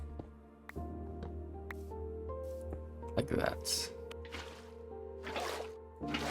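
Water being placed in a snowy Minecraft medieval village, heard as soft splashing and trickling drips over a steady game background, with someone talking casually through it.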